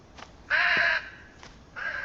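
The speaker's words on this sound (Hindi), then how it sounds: "कौए ओ कौए, क्यों डरा रहा है?" Crow cawing in the Indian horror video game Bhangarh, set at the ruined fort: a loud, harsh caw stretched over half a second, then a second, shorter caw near the end, with faint ambient tones between.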